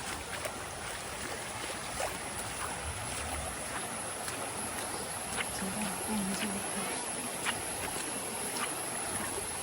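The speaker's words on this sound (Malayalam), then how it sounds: "ആ വെള്ളച്ചാട്ടം ചാടിയിട്ടാണ് ഈ വെള്ളം ഈ പോകുന്നത്" Water rushing at Vattayi waterfalls in Thrissur forms a steady, loud broadband roar that runs unbroken from start to end, with faint voices underneath.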